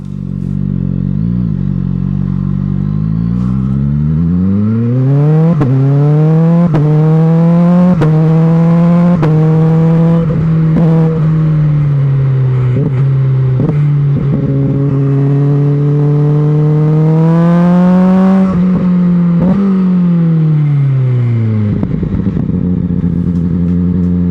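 A QJMotor SRK921 motorcycle engine roars continuously up close, revs climbing and dropping through the gears as it accelerates and eases off, with no talking.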